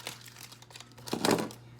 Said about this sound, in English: So I'm gonna get some scissors. We're gonna cut this bad boy open